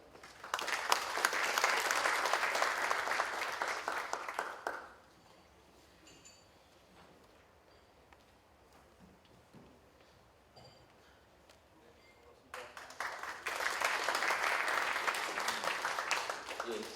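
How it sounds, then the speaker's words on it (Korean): Audience at a Korean mechanical technology forum applauding to welcome a speaker: a burst of clapping for about five seconds, a quiet stretch with faint room noise, then a second strong round of applause. "큰 박수로 환영해 주십시오."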